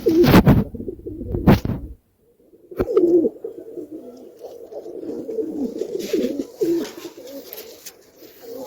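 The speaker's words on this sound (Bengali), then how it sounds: "আমাদের একটা দেখাচ্ছি কবুতর তোমাদেরকে," Pigeons in a home loft coo in low, throaty bursts, with a couple of louder flutters or close sounds at the start, then a steady run of soft cooing calls.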